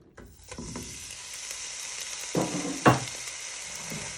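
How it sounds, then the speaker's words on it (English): Lamb frying in a pan, a soft steady sizzle broken by a few sharper clicks and scrapes of stirring, quiet and close. "First step is to fry your lamb"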